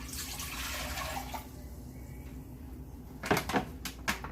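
Two cups of distilled white vinegar poured into a pot for canning banana peppers, a soft steady liquid stream close by for over a second, then a quiet pause and a few clunks of containers.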